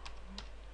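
A few soft, isolated keystrokes tap on a computer keyboard, faint and close in a quiet room.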